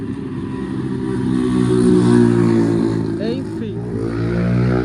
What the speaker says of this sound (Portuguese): Uma barragem de barulho de moto.